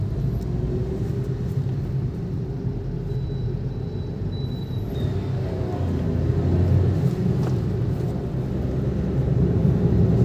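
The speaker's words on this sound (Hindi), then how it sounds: "तो एक्सीलेटर को प्रेस करते हैं और पहले तो भाई थोड़ा सा गाड़ी को खींचते हैं" A 2023 Maruti WagonR AGS automatic accelerating at full throttle, heard from inside as a steady, loud engine and road rumble that holds for ten seconds with slight swells, no talking.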